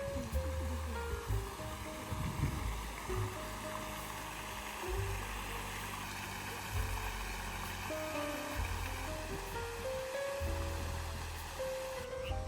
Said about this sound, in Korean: 조금 가다 보니까 저 앞으로 연못에 분수 소리가 시원하게 들려왔습니다.